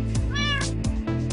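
A Minecraft cat meows once, close and clear, a short rising-falling call over a steady low background hum with faint clicks.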